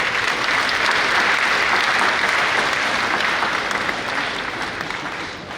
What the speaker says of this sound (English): A round of applause for them too.